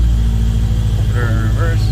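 A 2005 Toyota Corolla XRS engine running steadily with a low, droning hum as the car is put in gear and eased forward, with someone talking over it.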